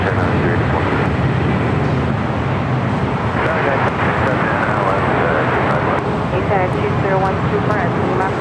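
A Boeing 737 MAX 9 jet departs LAX with a loud, steady engine roar filling the whole stretch, while a person talks over it.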